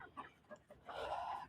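Hens in a small home flock of roosters and Sasso chickens clucking close by in cold weather, a few short separate clucks followed by a longer, louder squawking call.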